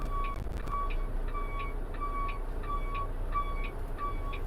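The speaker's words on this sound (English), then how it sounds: "we want to move the tractor fifth wheel under the trailer, but we do not want to couple it yet." Tractor truck backs its fifth wheel under a trailer, its reverse alarm sounding a steady, evenly spaced series of about ten clear beeps over a low engine rumble.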